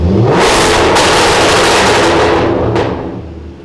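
Lamborghini accelerating hard with its exhaust roaring loudly and a dense crackle of pops, one continuous close pass that fades slightly at the end.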